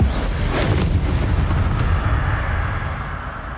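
A Confringo fire spell exploding in Hogwarts Legacy, a loud rumbling boom that swells and rolls on for a few seconds before slowly fading, heard with no voices.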